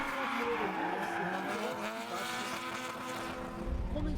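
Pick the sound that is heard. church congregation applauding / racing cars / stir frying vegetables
racing cars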